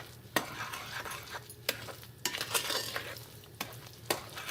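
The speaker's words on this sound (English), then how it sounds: "I'm going to give this a gentle stir." A spoon stirs through thick chocolate cake batter in a bowl, with soft scraping and a few light clinks against the sides, close and unhurried.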